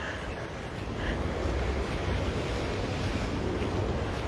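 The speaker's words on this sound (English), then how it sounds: "it's coming in a couple errant waves" Ocean waves surge onto a Honolulu shore on Oahu, a steady broadband wash of surf rolling in close with constant wind noise buffeting the microphone throughout, no talking.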